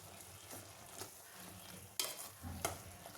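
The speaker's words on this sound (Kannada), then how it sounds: "ಉಪ್ಪನ್ನ ಹಾಕಾದ್ಮೇಲೆ ನೀಟಾಗಿ ಒಂದು ಸಲ ಮಿಕ್ಸ್ ಕೊಡೋಣ." Tomato gojju with salt is stirred in a pan: quiet, continuous sizzling broken by a few brisk scraping strokes close by.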